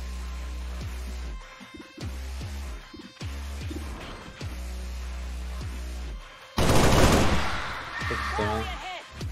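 Bursts of rapid gunfire and impacts from the video game XCOM 2: War of the Chosen, with crashing blasts late on, over a steady low drone; a voice talks at times.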